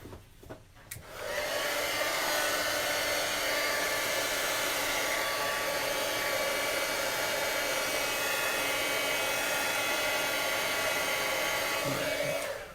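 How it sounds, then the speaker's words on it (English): An electric heat tool drying a ribbon for card making, switching on after a few handling clicks and then blowing with a loud, steady whirring roar close by until it cuts off at the end. "I'm going to put the heater on again, just to dry this ribbon before I try and put it on the cardstock."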